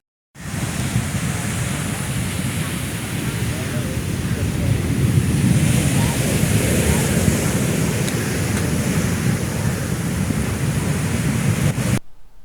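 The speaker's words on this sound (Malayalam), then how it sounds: "ചവറ കരിത്തുറയിൽ ശക്തമായ കടൽക്കയറ്റം." A strong sea surge at Karithura, Chavara, in a black-sand mining area, sends waves crashing past sandbags onto the shore in a continuous loud, roaring wash.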